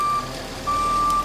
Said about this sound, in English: Here comes the cement truck.